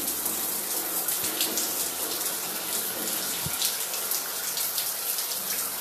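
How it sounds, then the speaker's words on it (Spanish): Cold water runs from a shower in a steady, close, loud hissing rush that stays even from start to finish, with no voices. "Helada salió la pinche agua."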